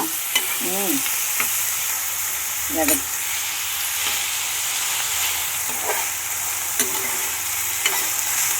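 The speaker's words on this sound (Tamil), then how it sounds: "ஒரு வெங்காயம், 2 தக்காளி போட்டு இதை நல்லா வதக்கணும்" Onion and tomatoes sautéing in a pan for a turkey berry garlic kuzhambu, an even close sizzle with intermittent scraping of a spoon stirring against the pan, no speech.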